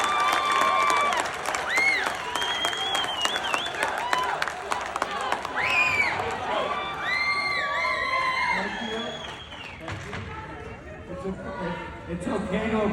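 An audience at a Washington State congressional candidate debate claps and cheers, with whoops and excited voices rising over the applause. The noise swells, then thins toward the end.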